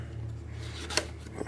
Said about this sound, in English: Gonna go ahead and get this cut open here.